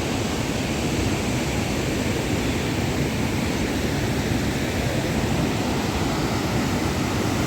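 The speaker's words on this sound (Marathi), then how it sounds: "पाण्याचा आवाज किती" A flooded river in Nashik rushing beneath the Victoria bridge after heavy rain, a dense, constant roar of fast water, loud and unbroken for the whole stretch with no voices.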